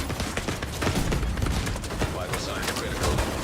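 Gunfire and explosions from the shooter game The Division 2 form a dense run of rapid shots and sharp blasts, loud and close, with a voice talking over the action.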